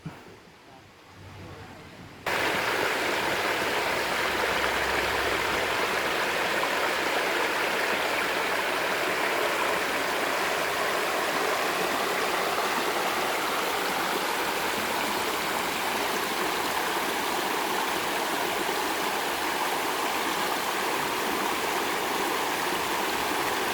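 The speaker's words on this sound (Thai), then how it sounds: "ลำธารสวยงาม" A steady rushing stream flows loud and close at a campsite by Ta-Yai Waterfall, Khlong Maduea, Nakhon Nayok, Thailand, continuous broadband water noise after a brief quieter start, with no talking.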